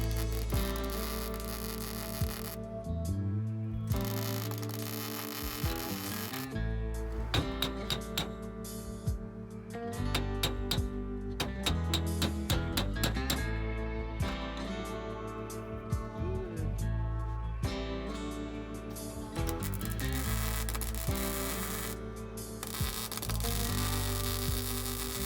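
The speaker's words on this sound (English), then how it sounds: "we're going to start to kind of beat it into place as we tack it in" Tack welding a metal patch piece into place on a car while fitting a cheap fuel cell: steady electrical hum runs throughout, broken by repeated crackling bursts of welding, loud and close.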